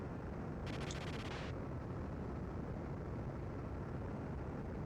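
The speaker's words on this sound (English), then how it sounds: "So I could shoot across his bow with the cannon." Cannon fire from an F/A-18 jet in the Amiga game F/A-18 Interceptor, a short burst of rapid rattling shots lasting under a second over a steady loud engine roar.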